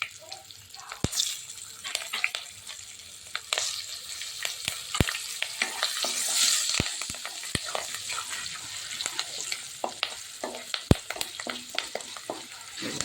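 Green chillies and curry leaves frying in a pan for a raw banana curry, a continuous close sizzle broken by sharp, scattered spatula clicks and stirring, with no talk over it.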